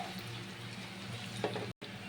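Rice frying in a pan for paneer pulao, giving a steady soft sizzle and crackle with a brief dropout near the end and no talking.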